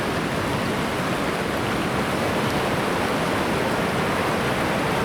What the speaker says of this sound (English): First waterfall.